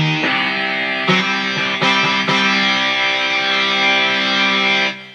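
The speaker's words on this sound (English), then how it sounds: "This is called rhythm distortion guitar." Rhythm distortion guitar preset on a Casio WK 7600 keyboard plays a few loud, buzzing sustained power chords with sharp re-attacks, ringing on before fading out at the end.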